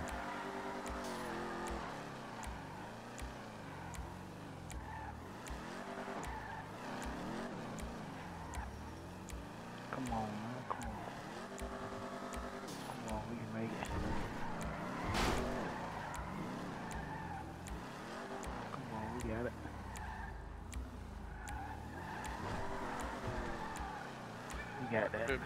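A car drives and skids in the GTA video game, with a continuous engine rumble and repeated tire squeals and skids, mostly under ongoing talk.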